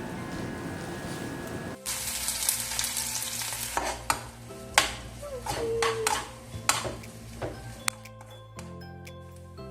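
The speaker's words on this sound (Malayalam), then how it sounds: "ഇനി ഇതിലേക്ക് കട്ട് ചെയ്ത ഒരു പകുതി സവോളയും കൂടി ചേർത്ത് കൊടുത്ത് നല്ലപോലെ ഒന്ന് വഴറ്റിയെടുക്കുന്നുണ്ട്." Sliced onion sautéing in hot oil with ginger and garlic in a pan, a steady sizzle broken by sharp scrapes and clinks of a spoon stirring against the metal, close and without talk.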